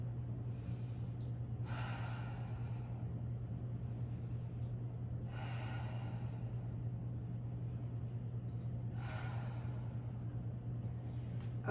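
A person doing hip flexor exercises breathes deeply, with three slow, audible breaths spaced several seconds apart over a constant low hum, close by and fairly quiet, with no talking.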